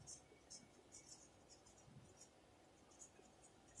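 A pen writes on paper during a fourth-grade maths lesson, making faint, close scratchy strokes in short bursts across a quiet background, with a louder bump at the very end.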